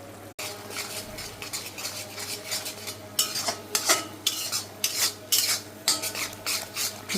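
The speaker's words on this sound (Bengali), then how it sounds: "ভালো মতো নাড়ায় চাড়ায় কষাবো।" A utensil scrapes and clanks against a pan as fish heads are stirred with turmeric, chili, cumin and coriander powder. Rhythmic scraping strokes grow louder and more frequent over a low sizzle.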